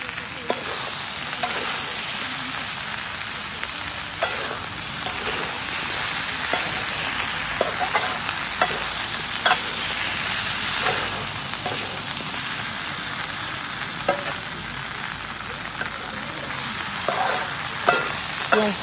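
Okra bhaji fries in a pan with a continuous bright sizzle, broken by regular stirring scrapes and clicks at close range, with no voices.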